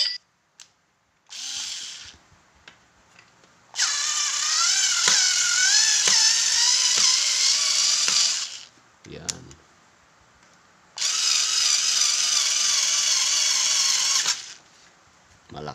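A Total 4V cordless screwdriver drives a screw in two sustained whirring bursts of several seconds each, a steady motor whine with clicks between runs and brief speech in the pauses.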